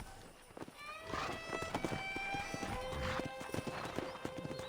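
Horse hooves clip-clop steadily over ground in Red Dead Redemption, with a whinny and faint tonal music layered over the rhythmic footfalls.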